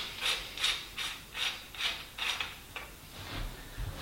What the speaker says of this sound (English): So we unscrew it, which is left hand thread.